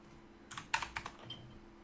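A computer keyboard being typed on in short bursts of several distinct keystrokes, close and fairly quiet over a low steady hum, with no one speaking.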